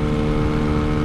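A motorbike engine held high near 9,000 RPM gives a loud, steady buzzing drone with dense harmonics, mixed with wind rush and no talk.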